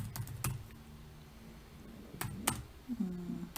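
Sparse keystrokes on a computer keyboard while writing Python code, a few quick clicks at the start and a short burst later, fairly quiet and close.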